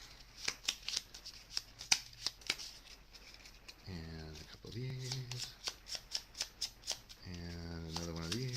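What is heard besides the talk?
shuffling a deck of cards for the Dungeon Quest board game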